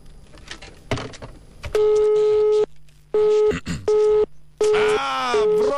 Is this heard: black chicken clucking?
no